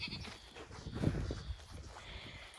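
Goats and sheep bleating in an open pasture, a few overlapping calls near and mid-distance over soft footsteps and rustling, with no talking.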